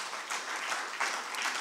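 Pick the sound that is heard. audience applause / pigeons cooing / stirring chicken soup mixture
audience applause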